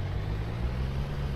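A truck in a farming video game drives along a road with a low, steady engine drone. It sounds close and constant for the whole brief moment.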